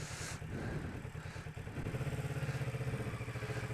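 A motorcycle engine revved while crawling at walking pace during a slow-speed riding lesson, a throbbing mid-pitched engine note that climbs and pulses in quick regular beats, fairly close and steady.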